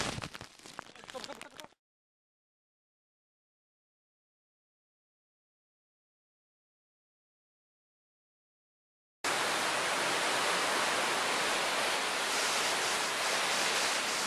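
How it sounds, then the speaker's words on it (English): Waterfall roar at a scenic spot near the ocean in rain, a loud dense broadband rush that cuts in after a long silent gap and continues steadily to the end, with a brief noisy burst at the very start. "we're going to waterfalls"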